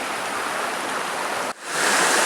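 Steady rushing of river water flowing through The Narrows canyon, a broad continuous wash close by, briefly dipping before returning slightly brighter.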